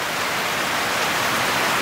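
Steady rain pours outdoors during a street film shoot, a dense even hiss filling the whole stretch with no breaks and no voices.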